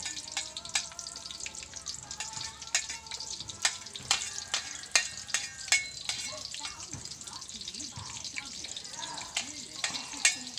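Chopped onion and garlic fry in oil for bagoong, crackling and popping in a steady sizzle with sharp spatters and occasional stirring scrapes close by.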